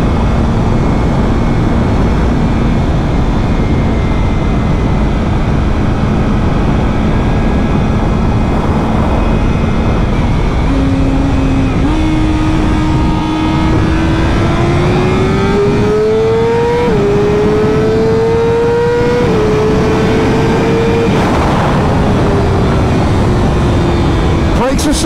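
A 2023 BMW M 1000 RR superbike with an ECU flash pulls hard through the gears, its engine note climbing steadily with quick-shift steps, loud and continuous under a rider's voice.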